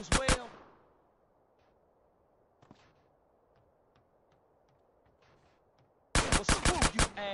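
Gunfire in the video game GTA San Andreas remake: a loud burst of rapid shots at the start, a faint lone report midway, then another sharp volley of several quick shots at the end, with quiet in between.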